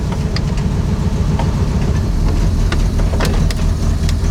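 A 1965 Ford Mustang barn find, left sitting for 13 years, idles with a steady, close, low rumble throughout, with a few faint clicks and ticks above it.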